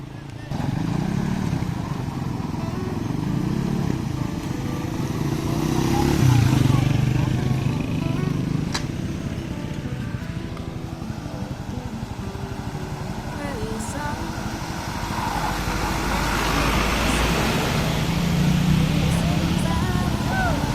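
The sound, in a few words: motorcycle riding through flood water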